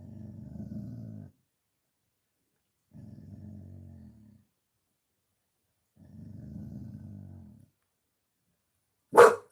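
A recovering puppy with healing stitches growls in three rumbling bursts, each a second or so long with short pauses between, followed by one sharp, loud bark at the end; no one talks over it.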